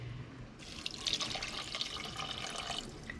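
Two cups of water poured for elderberry syrup make a short, steady splashing stream, close and moderately loud, starting abruptly after a brief quiet moment.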